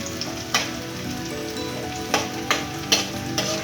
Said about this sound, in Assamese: তাৰপাছত এতিয়া নহৰু আদাখিনি ভালকৈ ভাজি ল'ব লাগিব।